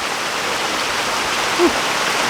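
Rain falls outdoors in a steady, even hiss, with a short faint vocal sound near the end.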